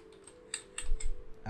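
Several quick computer-keyboard keystrokes while a password is entered, faint and sparse clicks spread over a low steady hum, with a soft thump near the end.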